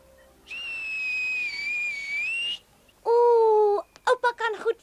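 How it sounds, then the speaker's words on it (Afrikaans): An old grandfather whistles, first a long wavering tone, then a lower sustained note, then a quick run of short chirpy notes, heard clearly against quiet surroundings. "Kan oupa ook fluit?"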